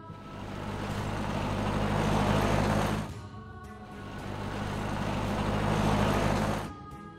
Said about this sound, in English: Taxi.